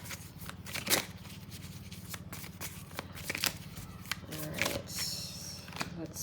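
A deck of cards is handled and riffle-shuffled up close, with crisp fluttering bursts and small taps and slides between them. A voice murmurs faintly underneath.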